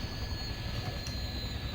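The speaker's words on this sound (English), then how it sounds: "I can still hear that helicopter." A Bell UH1D helicopter in Farming Simulator 2015 drones steadily at a distance, a constant rotor and engine hum heard from a vehicle far away in the woods, with no speech.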